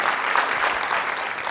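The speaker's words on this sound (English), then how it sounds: "Just clap for Adam and Anna." Steady applause from a crowd, dense clapping throughout without a break.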